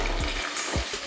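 Grated onions fry in hot oil with a dense, continuous sizzle, and a couple of soft stirring thumps cut through in this brief moment.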